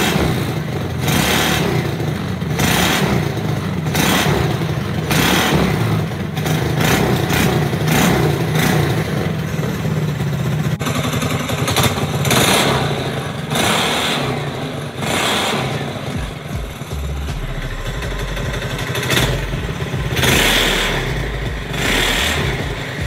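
A restored Manco Dingo go-kart engine revs on a test drive. It sounds loud, rough and close, with repeated bursts of throttle and continuous raspy engine noise.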